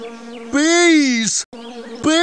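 A voice imitates cartoon bees buzzing in an animated dragon story: two loud, close, wavering nasal buzzes, each rising and then falling in pitch, separated by a brief gap.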